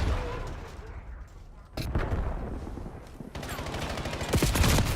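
Dense gunfire crackles through a video game firefight, with continuous bursts of shots and booming impacts layered close and loud, and a voice speaking over the din.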